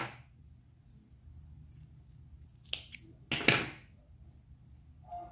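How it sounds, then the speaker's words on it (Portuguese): Scissors snipping through crochet yarn, a couple of quick, crisp cuts close by after a quiet stretch, with faint handling noise around them. "Aqui eu posso cortar o meu fio já."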